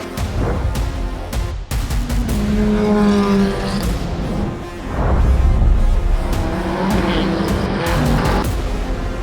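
Prototype race cars roar off the line at the start of the 12 Hours of Sebring, engines revving hard and rising in pitch through upshifts, several cars layered together with sharp bursts and gear changes, loud and close.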